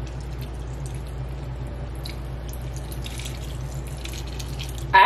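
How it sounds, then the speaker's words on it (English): Liquid is poured over a food mixture during meal prep, a faint, steady trickle with small drips over a low background hum, ending in a brief louder clatter. "Then you pour it all over the mixture."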